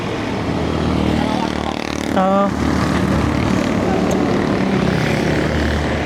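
A motorcycle tricycle's engine idles and drones steadily close by on a rural road, a continuous loud rumble with a brief rising whine near the middle and a voice speaking over it.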